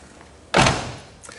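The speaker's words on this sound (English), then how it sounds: "This door closes and it's just absolutely positively as nice a fit as you could ever hope to find" A single solid thunk as the door of a 1972 Plymouth Duster swings shut, a close, clean latch with a short fading resonance and a faint click afterward.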